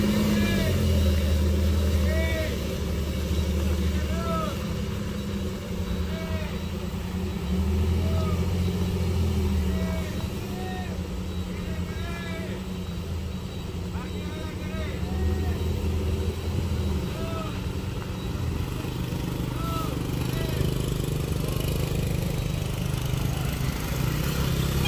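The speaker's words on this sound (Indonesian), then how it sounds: "truk Hino belum juga mampu untuk melewati tanjakan di Batu Jomba" Hino heavy tronton truck engine labouring up the steep rocky Batu Jomba hill, a continuous low diesel drone with surging revs, heard at moderate distance with outdoor background noise.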